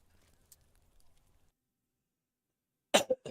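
A few harsh coughs burst out close and loud near the end, a quick cluster of hacks following a long stretch of near silence with faint background shuffling, from a person up late.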